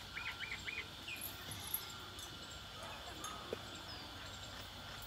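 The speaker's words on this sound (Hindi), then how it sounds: "चिड़ियों के चहचहाने की आवाज।" Faint bird chirps and tweets over a soft outdoor hiss, with a few brief high calls near the start and no talking.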